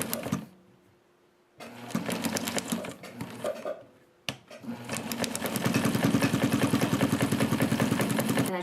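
A sewing machine stitches fabric in short starts and stops, then runs fast and steady in a rapid, even mechanical rattle, close and fairly quiet with no talk.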